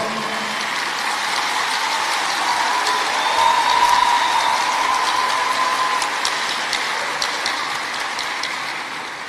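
An audience at a political speech breaks into sustained applause, a dense, even roar of many hands clapping that swells slightly midway and then eases, heard alone without talk.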